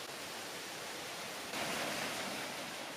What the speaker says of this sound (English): As you can see from the channel, the water drops onto the water wheels.